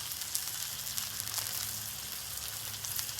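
Butter sizzles on a hot griddle before pork tenderloin is fried, a quiet, steady crackling hiss with no voices over it.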